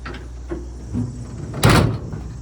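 Door on a 1955 Chevy 6400 dump truck swings shut against its striker, a few soft creaks and knocks leading to one loud, close metallic thud near the end.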